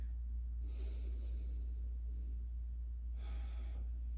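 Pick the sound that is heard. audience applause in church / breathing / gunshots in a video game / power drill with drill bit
breathing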